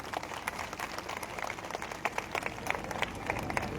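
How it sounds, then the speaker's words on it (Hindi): An audience claps at a gathering in Mumbai, with scattered, uneven applause that sounds somewhat distant and moderately quiet, with a few louder individual claps. "एक जोरदार ताली आपके लिए होनी चाहिए।"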